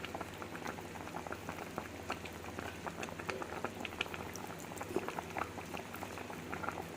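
Fig jam with sugar and lemon juice simmering on low heat, a soft continuous bubbling with small irregular pops, close and fairly quiet, no voices.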